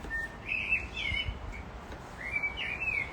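A loud bird sings outdoors in short repeated whistled phrases, bright and clear, set against a steady low background rumble with no one talking.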